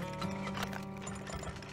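Horse hooves clip-clopping in the oil-drilling game Turmoil, a short run of light rhythmic clops over a soft game music bed, moderately close and quiet.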